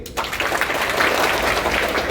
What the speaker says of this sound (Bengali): সব একটা হাততালি দেই